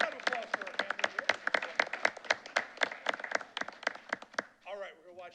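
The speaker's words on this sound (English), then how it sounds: "a round of applause for our family here" A small group claps at a school board meeting, giving sparse, distinct handclaps close by in an irregular rhythm, and the clapping stops as a voice starts speaking.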